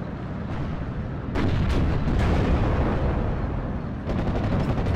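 Sherman Firefly tank firing on an AVRE in the WWII strategy game Steel Division: Normandy 44, a loud booming shot around the one-second mark over a constant battle rumble, with further cracks and distant gunfire following.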